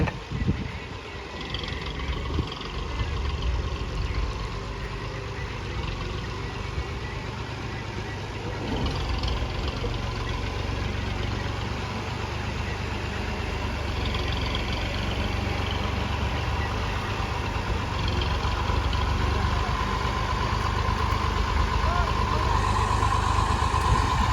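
A tractor engine idles with a steady, continuous low rumble that stays close and even, growing slightly louder toward the end.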